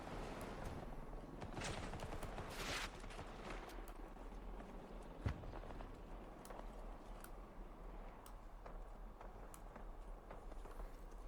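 Gunfire crackles in a Battlefield 2042 battle, a steady stream of distant shots and bursts with one sharper nearby crack, all carried on a constant wash of background battle noise.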